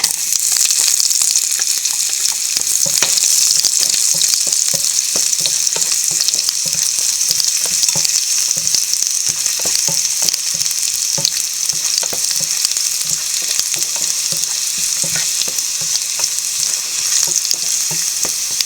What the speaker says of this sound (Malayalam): ഉണക്കമുളക് നല്ലപോലെ മൂത്തതിന് ശേഷമേ ചെറിയ ഉള്ളി അരിഞ്ഞതിടാവുള്ളൂ ഉള്ളി ഇട്ട് കൊടുക്കാം